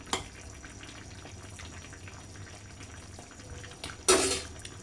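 Dried ribbonfish with beans and eggplant cooks gently in a pan on low heat, a faint continuous sizzle with a sharp clatter of utensil against the pan near the start and a louder scrape toward the end.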